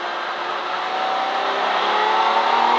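V12 race car engine at Silverstone, a loud, steady high-pitched howl that climbs gradually in pitch as it revs, heard from on board with no pause.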